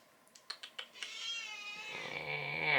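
A house cat gives a few short meows and chirps, then a longer drawn-out meow that rises into a loud, sustained cry, up close in a quiet room.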